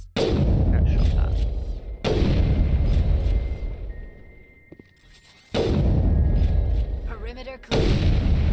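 Heavy automatic gunfire in Mass Effect combat, dense sustained bursts that cut out and resume several times, with a brief lull and faint tones between volleys.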